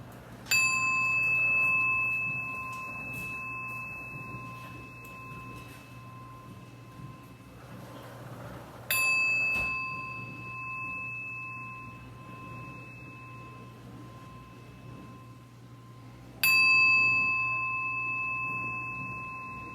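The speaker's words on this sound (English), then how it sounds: "I love my singing bowls." A metal singing bowl is struck three times, each strike ringing out with a long, pure sustained tone that slowly fades in a quiet room.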